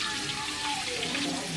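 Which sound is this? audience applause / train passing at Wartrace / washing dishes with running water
washing dishes with running water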